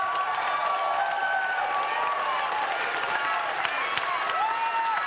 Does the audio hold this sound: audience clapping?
yes